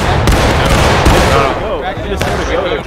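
Musket volley fire from a regiment in the Civil War game War of Rights: sharp, crackling gunshots burst out early, near the middle and again late, with voices shouting over the steady background din of battle.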